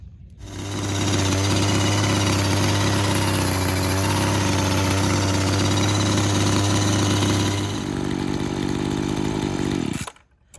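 A Craftsman gas hedge trimmer, started on full choke with a pull cord, roars steadily at close range, then its pitch shifts near the eight-second mark before it cuts off abruptly at about ten seconds.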